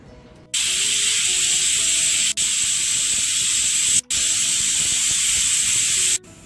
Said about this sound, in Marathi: तीन शिट्ट्या झालेल्या आहेत